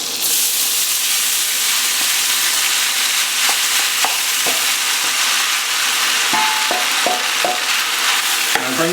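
Pasta stirred into sizzling nut-brown butter gives a loud, steady, hissing fry up close, with occasional scrapes and clicks of a spatula against the pan and no speech.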